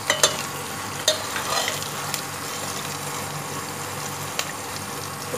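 Onions frying in mustard oil for mutton keema, with steady soft sizzling and a few brief stirring clicks and scrapes close by, moderately quiet throughout.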